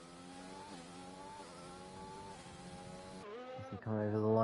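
Formula 1 car lapping the Brazil circuit in the F1 2020 video game, with a high, steady engine whine that shifts through gears and then surges louder near the end, under continuous commentary.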